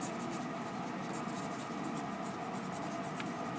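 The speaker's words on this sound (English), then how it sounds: "now I'm going to write my name" A name is written by hand: soft, steady scratching of a pen or pencil on paper, close and quiet, with faint repeated strokes over an even background hiss.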